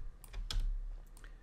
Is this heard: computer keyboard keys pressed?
yes